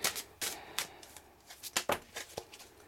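A Druid Tarot card deck being shuffled, heard as a string of soft, close flutters and riffles in irregular bursts, fairly quiet and with no voices.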